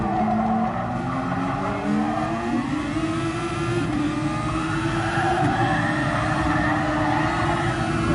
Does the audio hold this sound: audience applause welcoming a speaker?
no